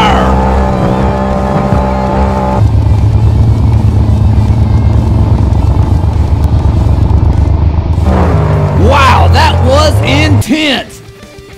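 Engine of the Gravedigger Fire monster truck in BeamNG Drive, a mud battle event: a loud, sustained roar from inside the truck that shifts tone midway, then breaks into sharp revving bursts before cutting off.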